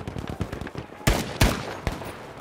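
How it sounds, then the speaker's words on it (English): Rifle fire crackles during a Battlefield 5 multiplayer match on the Twisted Steel map, with a rapid patter of distant shots followed by three loud, sharp nearby bangs. "Fire on that building!"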